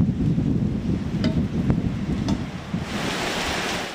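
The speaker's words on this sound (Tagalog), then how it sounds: "marinig ang sipol na hangin ng Super Typhoon Nando" Super Typhoon Nando's wind roars at night in Santa Ana, Cagayan: a loud, continuous, rumbling gale with buffeting gusts and a hissing surge near the end, with no voices.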